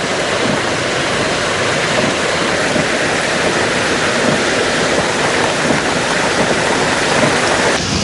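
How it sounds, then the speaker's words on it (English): Water from three opened spill gates of the Mausakali Reservoir roars in a steady, loud, broadband rush, continuous throughout with no voices. "3 spill gates of the Mausakali Reservoir were opened last night"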